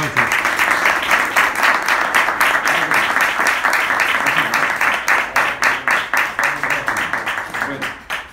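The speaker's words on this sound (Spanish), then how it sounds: "Un aplauso." Sustained crowd applause fills a tribute ceremony honouring actor Eduardo Fajardo at a western film museum in Almería, Spain; dense, steady clapping runs throughout and slowly thins toward the end, with voices faintly mixed in.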